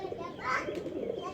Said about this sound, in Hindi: कबूतर ये आ रहे हैं, बैठ रहे हैं